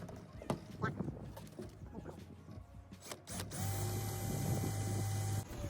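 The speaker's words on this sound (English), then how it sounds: "Let's get drilling." A power drill whirs steadily for a couple of seconds near the end while installing a skylight in a Mercedes Vario minibus, following a stretch of clattering handling noise and faint movement.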